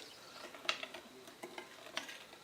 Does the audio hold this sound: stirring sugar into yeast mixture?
yes